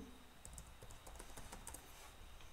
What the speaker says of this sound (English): So you can just type